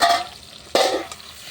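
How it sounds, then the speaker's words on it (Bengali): Onions fry in a pan over a clay stove, a close, loud hiss with a sharp burst of sizzle as they are stirred, over a short stretch without speech. "আমার পেঁয়াজটা ভাজা হচ্ছে"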